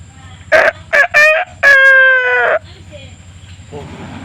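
A local farm chicken crows close and loud in several bursts, the last call long and drawn out, followed by quieter clucking and low background voices.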